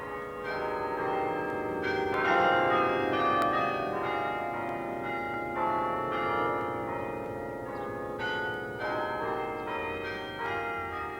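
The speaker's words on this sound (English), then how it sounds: "The chime of bells" Church bells chime in Loughborough, an English town famed for its bell foundries, their overlapping rings sustained and fairly loud throughout, with no voices.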